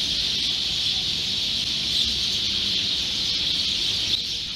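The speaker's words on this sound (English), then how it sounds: "It was hundreds and hundreds of birds chirping away." A dense, steady wash of high chirping from hundreds of birds at a hotel in Antalya, Turkey, continuous throughout with a low rumble underneath.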